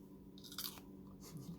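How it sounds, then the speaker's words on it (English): Crunchy bite of a raw vegetable from a fresh farm veggie box, with a sweet broccoli or cabbage flavor: a few quiet, close crisp crunches and chewing sounds in short bursts, no talking. "I hear the crunch."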